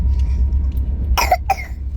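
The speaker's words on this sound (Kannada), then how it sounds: "ಕೆಮ್ಮು ಶುರು ಆಯ್ತಾನೆ ನಿಂಗೆ" Two quick, close coughs, one right after the other, cut through the steady low rumble inside a moving train carriage on a Bangalore to Delhi journey.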